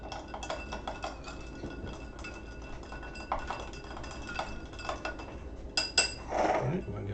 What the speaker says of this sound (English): Grab a swizzle to stir it up a little bit.